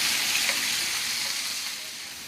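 Minced meat sears undisturbed in a hot pan, giving a loud, dense, continuous sizzle that eases slightly toward the end, with no voices.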